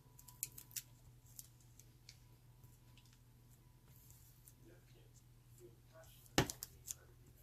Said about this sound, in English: I forgot to cut that little flap off right there